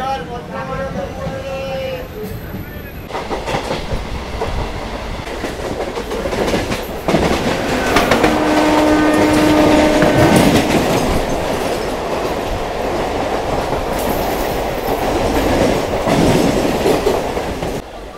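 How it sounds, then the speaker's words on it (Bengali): A local train leaves Santragachi Junction station with a continuous close rumble and rhythmic clickety-clack of wheels on rail joints, plus brief high wheel squeals, building in loudness as the carriages gather pace. "ট্রেন ছেড়ে বেরিয়ে যাচ্ছে সাঁতরাগাছি জংশন রেলওয়ে স্টেশন থেকে।"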